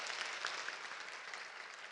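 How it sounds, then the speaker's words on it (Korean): Church congregation applauding, an even, sustained patter of many hands clapping at moderate distance, steady for the whole stretch with no voices. "덜커덩 합격해서 박수 한번 쳐줘"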